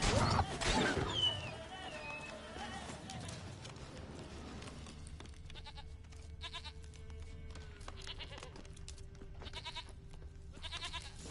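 A video game goat bleats once early on, then faint rhythmic clopping and soft tapping sounds continue over a quiet background hum.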